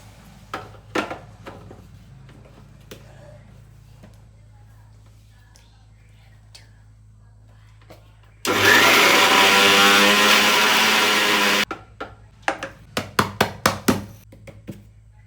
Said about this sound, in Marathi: आणि हे आधी मिक्सरला लावायचं